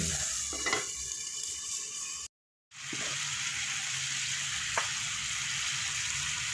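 A single tilapia sizzles steadily in hot oil in a pan, a constant close crackle broken by a brief full silence midway, with occasional louder pops and spatters.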